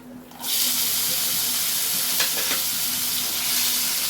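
Chopped ginger, garlic and tomato hit hot oil for palong paneer and burst into a loud, steady sizzle that holds evenly, with a couple of stirring scrapes.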